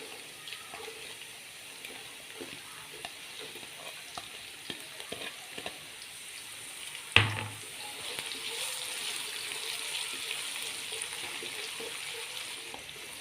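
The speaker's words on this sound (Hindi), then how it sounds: "प्याज डाल के इसको हम 2 मिनट के लिए फ्राई कर लेंगे ताकि ये थोड़ी सी सॉफ्ट हो जाए।" Chopped medium onion softening in a pan for a dhaba-style mixed vegetable dish, a quiet continuous sizzle with a few faint stirring clicks and one sharp clatter partway through.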